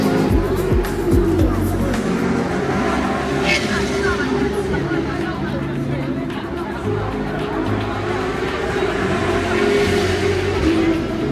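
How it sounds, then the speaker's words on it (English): Loud, continuous roar of Formula One cars passing at speed in Singapore, with a crowd chattering and babbling underneath throughout. "Formula One cars thundering overhead"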